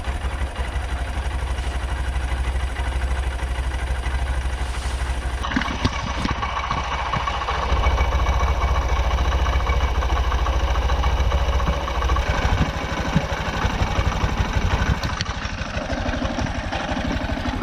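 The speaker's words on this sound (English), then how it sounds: "we've been running for 36 minutes, so the engine is nice and warm" A warmed-up 2023 Honda CB125F motorcycle engine idles steadily up close, a continuous low rumble with slight shifts in tone and no talking.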